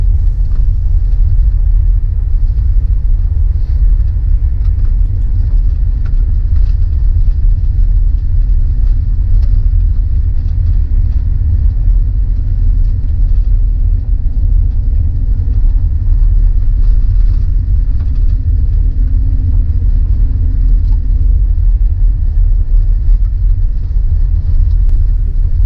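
A vehicle drives through the streets of Tuktoyaktuk, giving a steady low engine rumble and road noise that stays loud and constant throughout, with no talking.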